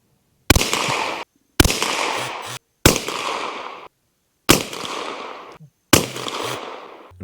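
Five sharp, loud rifle shots ring out one at a time from a Savage B22 firing CCI Mini Mag ammunition. Each report is followed by a long decaying echo, with roughly a second or more between shots.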